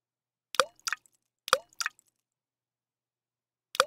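Single water drops fall in quiet isolation, crisp plops arriving in pairs with pauses between, five close drips then a last one after a long silence.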